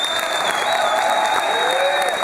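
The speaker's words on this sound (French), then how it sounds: "merci de les applaudir" An audience applauds at a short-film screening at the 2011 Gérardmer film festival: dense, continuous clapping from a large crowd with a faint voice underneath.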